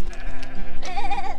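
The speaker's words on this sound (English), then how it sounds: "There's a sheep." A sheep on Snowdon, by the Watkin Path in Wales, gives one close, wavering bleat in the second half after a brief rustle.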